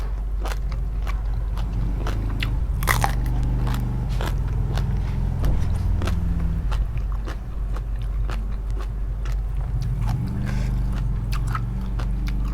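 Crunchy chewing of a spicy Lao-Thai som tam papaya salad, with repeated close bites and crunches over a steady low background hum and no talking.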